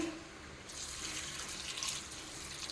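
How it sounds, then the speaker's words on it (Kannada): Water is poured into lentils and amaranth greens in a pressure cooker, a close, steady splashing stream that continues for about three seconds with no talk over it. "ಇದಕ್ಕೆ ಸ್ವಲ್ಪ ನೀರು ಹಾಕಿ"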